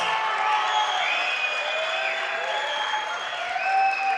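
An audience at an MMA event claps steadily with some cheering mixed in, a dense, even wash of applause lasting a few seconds.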